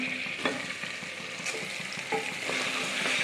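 Goat leg paya gravy with masala is stirred in a pan, a close, soft sizzle broken by scraping strokes of a spoon turning the thick mixture from the bottom.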